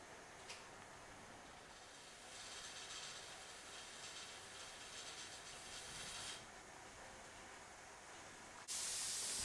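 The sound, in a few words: steam venting from Presto pressure canner vent pipe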